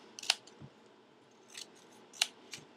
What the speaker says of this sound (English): Right now I just cut a bunch of little triangles and squares